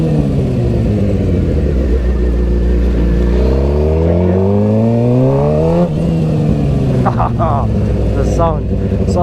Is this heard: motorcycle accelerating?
yes